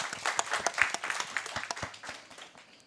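An audience at an annual dialogue gathering in Uganda claps to welcome the Lango sub-region delegation, a scattered round of distinct hand claps that thins out and fades toward the end.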